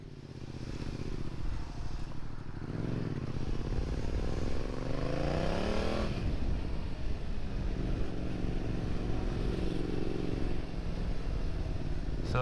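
A motorcycle out on a group ride accelerates hard as the throttle opens, its engine note climbing in pitch, then settling into a loud, sustained roar with wind rush and no talking.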